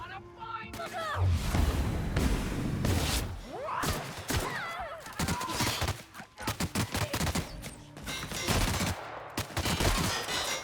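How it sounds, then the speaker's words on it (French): Gunfire rips toward the player in The Outer Worlds Spacer's Choice Edition, with rapid bursts and single loud shots repeating close by throughout, and a voice briefly audible between volleys. "Qui me tire dessus?"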